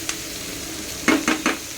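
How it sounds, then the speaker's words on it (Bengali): Onion and cabbage frying in a pan, with a low steady sizzle and then three quick, distinct stirring scrapes close by near the end. "এবার পেঁয়াজ আর বাঁধাকপি সুন্দর করে ভাজবো"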